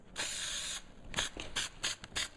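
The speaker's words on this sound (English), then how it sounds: "we're just coming in and we're spraying this" Spray bursts hiss close by: one long steady spray, then several short spurts in an irregular rhythm, with no talking, while adhesive is sprayed on a car trunk lid for a liner installation.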